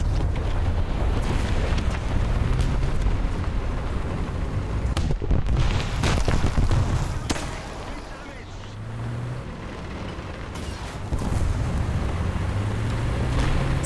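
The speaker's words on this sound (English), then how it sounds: "there's a bombing run on C" Heavy rumbling explosions and booms from a bombing run in the tank battle game War Thunder, dense and continuous with sharp blasts near the middle, under engine drone and occasional talk.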